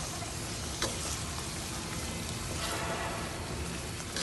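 Chicken malai handi cooking in a pan makes a steady close sizzle and bubbling hiss that runs unbroken, with a faint clink near the start.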